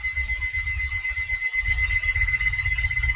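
A 13-year-old electronic alarm clock beeps rapidly and continuously, a high shrill tone pulsing over a low rumbling hum, with one brief pause.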